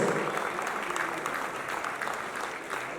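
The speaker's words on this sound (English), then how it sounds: "Please give them a huge round of applause." A dense burst of audience applause at the Globoil India Awards, steady clapping from a large crowd filling the room.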